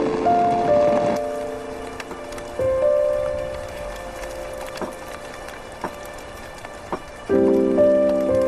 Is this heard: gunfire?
no